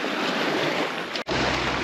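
Sailboat moving over the sea between Palermo and Vulcano, with steady broadband rush of waves and wind noise on the microphone, loud and continuous, briefly dipping near the end before resuming.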